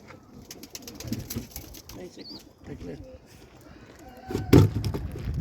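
Domestic pigeons coo at a home coop, soft repeated throaty calls close by, with someone talking quietly over them and a sharp knock or clatter near the end.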